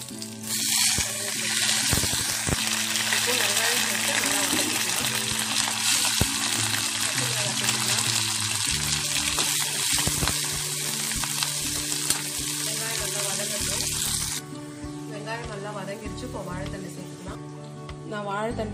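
Mustard seeds, urad dal and fennel crackle and sizzle in hot oil in a pan while a banana stem kootu is being made, a loud, continuous frying hiss under a woman's speech.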